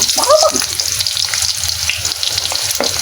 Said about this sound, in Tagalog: tayo po muna magigisa ng bawang sibuyas.